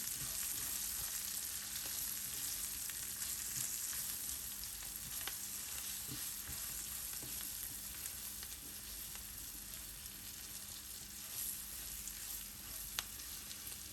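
Red chili and spices frying in a pan over very low heat while being stirred, with a steady soft sizzle and faint scraping throughout, close and unvoiced.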